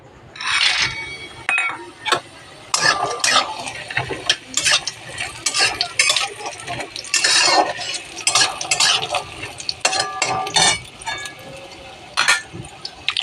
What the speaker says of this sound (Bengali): প্রথমে আমি কলাই বড়িগুলো ভেজে নেবো